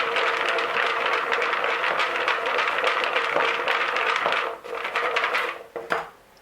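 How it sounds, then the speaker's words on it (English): Coated peanuts shaken hard in a lidded container, a loud continuous rattling clatter of nuts against the walls that keeps a steady rhythm before tapering off in a few final jolts, with no voice. "Sprinkle everything on the peanuts and shake"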